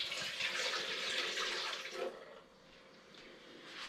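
Tap water runs into a pot, a steady hissing splash that quiets briefly partway through before the flow picks up again.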